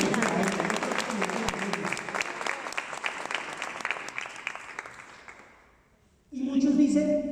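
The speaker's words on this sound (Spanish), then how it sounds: "Dale un fuerte aplauso a Dios." Church congregation applauding during a Spanish-language sermon: sustained dense clapping with voices mixed in that fades out, then a loud burst of speech and applause returns at the end.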